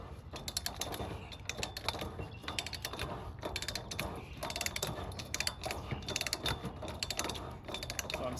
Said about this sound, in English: Mud auger's just getting into the top layers.